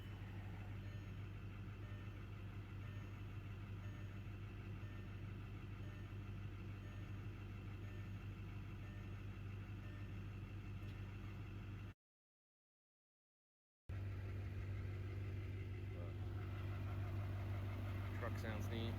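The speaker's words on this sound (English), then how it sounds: "Truck sounds neat." A truck idles on a cold morning with a steady low rumble and an even drone, cut by a brief silent gap, then resuming at the same level.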